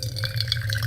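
Boiling water trickles and splashes as it is poured into a Wacaco Pipamoka portable coffee brewer, a steady close liquid fill lasting about a second with no talking.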